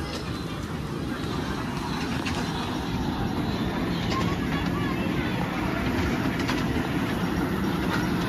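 Steady rumble and rattle of a moving train heard from inside a carriage, with continuous rolling noise throughout and faint voices in the background.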